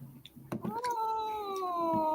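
A cat meows loudly and insistently indoors, one drawn-out rising-then-falling cry following a few short sounds and light tapping, close to the listener.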